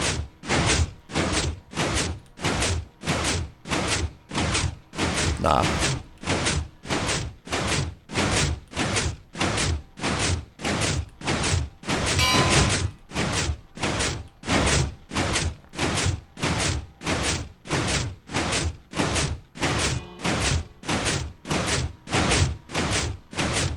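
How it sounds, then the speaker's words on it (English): Minecraft redstone pistons fire in a steady, rapid rhythm of sharp mechanical thuds, repeating about twice per second for over twenty seconds, loud and close with a brief voice near the start. "Yeah, the pistons are louder than the bell, yeah."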